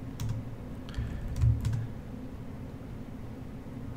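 Typing on a computer keyboard at a Linux terminal gives a few scattered bursts of soft clicks and key taps close by, then trails off into quiet with one more tap at the end.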